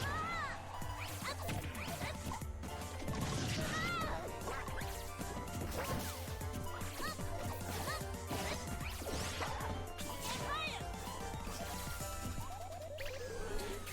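Duck Hunt's duck quacking during a Super Smash Bros match, its repeated quacks mixed with dense game effects, hits and music throughout, steady and loud.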